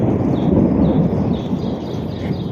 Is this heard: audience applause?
no